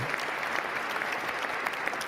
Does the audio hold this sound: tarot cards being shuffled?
no